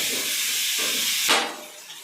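Onions and tomatoes sautéing with salt in a pan for a dried-fish curry give off a loud, steady sizzling hiss that swells briefly near the end, with no voices over it.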